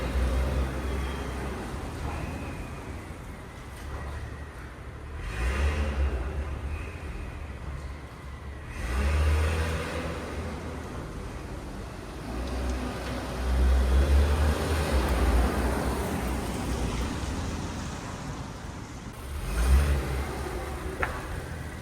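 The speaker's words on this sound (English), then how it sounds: "it is pretty quiet with the valves closed" A Stage 2 Acura TLX Type S with catless downpipes is driven with its exhaust valves closed, a subdued engine hum that swells in a few gentle acceleration surges over steady road noise, with no talking.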